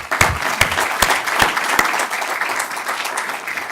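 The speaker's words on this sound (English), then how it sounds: "So join me in a round of applause for them" Room-wide applause at a panel discussion event, a sustained wash of many hands clapping, loud and close, with a few sharper individual claps standing out early on.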